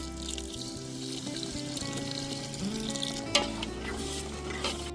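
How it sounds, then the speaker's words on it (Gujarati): A splash of water is poured over dry spices (paneer masala, salt, turmeric, chilli) sizzling in a pan for paneer bhurji. It gives a steady, fairly soft crackle with a brief trickle and light stirring. "આપણા સૂકા મસાલા ભરી ના જાય એના માટે નાખી દઈશું થોડું પાણી"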